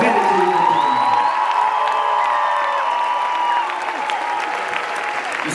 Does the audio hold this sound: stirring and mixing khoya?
no